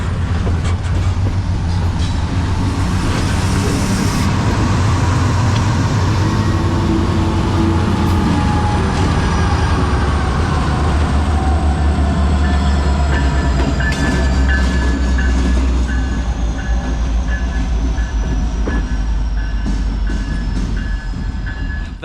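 A train crosses the old steel bridge over the Capilano River in North Vancouver, a loud, continuous rumble and clatter of wheels on rails with metallic squeals, close by and sustained throughout.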